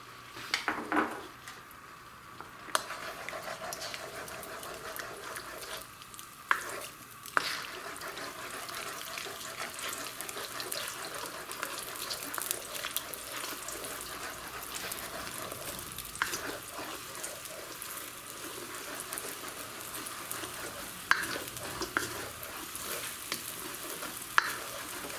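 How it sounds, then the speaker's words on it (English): Egg frying in peanut oil in a wok while being stirred, with a steady sizzle and occasional scrapes and clinks of the utensil against the pan, close up and continuous with no talk. "and then we're going to stir that up."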